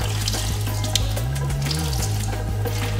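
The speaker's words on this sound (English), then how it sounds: "using cold water, we're just going to kind of like put some water through the hair" Cold tap water runs steadily through a bundle of deep-wave kinky curly hair under a faucet, a loud, continuous splashing stream with a slight shift in pitch midway.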